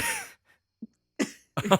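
A tabletop game player imitates coughing up blood with a few rough, wet vocal coughing bursts, one short grunt early and two louder hacking fits near the end, close to the mic, with talk at the start.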